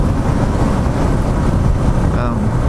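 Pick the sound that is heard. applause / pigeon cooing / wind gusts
wind gusts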